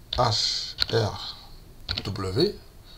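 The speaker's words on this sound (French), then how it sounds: "je vais ici, je tape le ticker" Clicks from a computer keyboard as a stock ticker is typed, faint and brief, mostly buried under someone speaking French close to the microphone.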